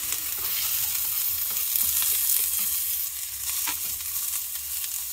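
Garlic sizzling in hot oil in a pan at a campsite, a steady bright hiss with occasional soft stirring scrapes and pops, close by and alone.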